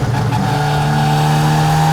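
Bugatti Type 35 race car driving along a road, its engine droning steadily with a strong sustained tone and harmonic whine throughout, loud and close with no talk.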